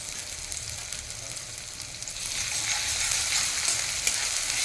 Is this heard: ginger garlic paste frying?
yes